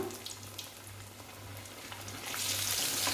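Pieces of food frying two at a time in a pan of hot oil in a home kitchen, giving a steady close sizzle that swells louder and brighter toward the end, with no talking.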